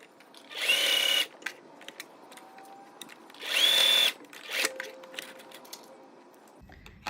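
A sewing machine runs in two short bursts along a fabric tube for a neck cooling wrap, close and clear, with quiet handling noises between the runs.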